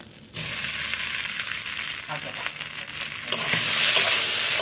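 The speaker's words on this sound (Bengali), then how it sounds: "এবার দিয়ে দিচ্ছি পটল আর সয়াবিনগুলো," Pointed gourd and soybean chunks go into a wok of hot spice paste with dried chilli paste, bursting into a loud sizzle that keeps building, broken by scraping stirs and small metallic clinks.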